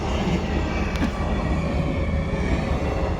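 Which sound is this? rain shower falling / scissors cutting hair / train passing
train passing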